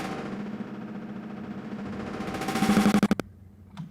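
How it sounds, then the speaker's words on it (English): A glitched drum sample processed through granular synthesis, with its wave spacing modulated by an LFO. It gives a dense, buzzing, stuttering texture that speeds into rapid machine-gun-like repeats before breaking off, then leaves a faint tail. "you can create really interesting effects just with the wave spacing modulation"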